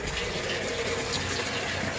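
Water pours steadily into a 125-gallon aquarium during a refill, a continuous, close rushing gush like a running tap that holds even throughout with no talking.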